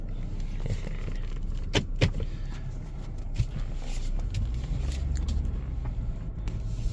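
A city car drives on a sandy road, heard from inside as a steady low engine rumble and road noise, with a few brief knocks and rattles from the cabin.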